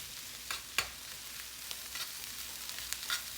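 Leftover fried rice frying in a home wok on a moderate flame, with a steady crackling sizzle broken by several sharp scraping bursts as the rice is pushed and spread around the pan.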